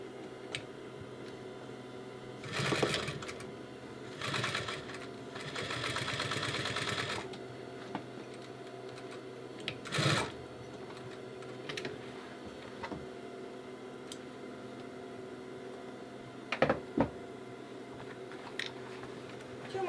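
An industrial sewing machine stitches an ottoman cover for a coffee table, running in a few short, fairly quiet bursts of a few seconds each, with light clicks and pauses between them.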